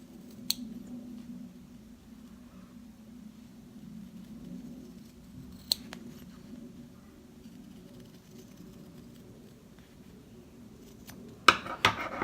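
Scissors snip embroidery thread close to the stitches: a few sharp, isolated clicks spaced several seconds apart over a quiet low background hum.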